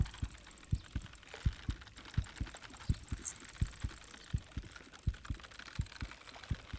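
A strong fish heartbeat effect in the Bassmaster Fishing 2022 game throbs in a steady low double-thump rhythm, about a dozen beats, with faint clicking and ambient game noise behind and no talking.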